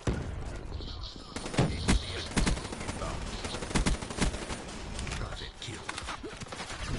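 Assault rifle fire in the video game Call of Duty 3 rattles in quick bursts of shots amid distant battle noise, with a player talking throughout.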